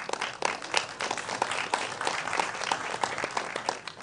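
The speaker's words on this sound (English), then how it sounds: "Put your hands together for them, please." A school quiz contest audience gives a steady round of applause, dense clapping sustained throughout with no talk over it.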